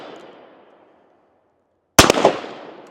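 A single loud, sharp shot from a Smith & Wesson 686 revolver fired one-handed outdoors, a sudden crack with a short echoing tail after a fading earlier report.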